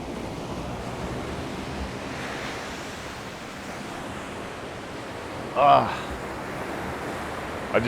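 Ocean waves washing onto the shore, a steady broad rush of surf and wind noise throughout, with a brief louder swell or splash near the end.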